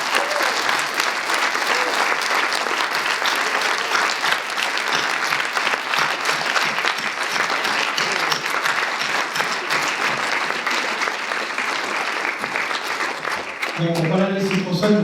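Loud, sustained audience applause at a film screening in Lyon, continuous dense clapping filling the hall for about fourteen seconds before a voice begins speaking as it dies down.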